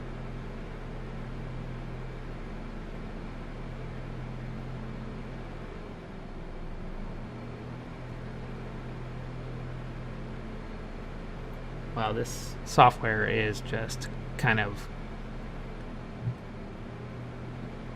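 Computer cooling fans whir loudly under heavy CPU load while running a flight simulator, a steady low hum throughout with a person speaking briefly over it near the end.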